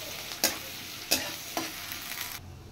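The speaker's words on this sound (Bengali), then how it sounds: "পেঁয়াজগুলো আমি হালকা লাল করে ভেজে নেব।" Chopped onions fry in hot oil with a constant close sizzle, punctuated by three or four loud stirring bursts before the sound drops away abruptly.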